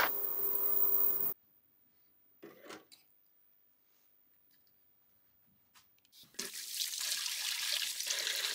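Tap water runs over Swiss Army knives being rinsed, a steady close splashing at the start and again at the end, with a quiet stretch and faint clicks in between.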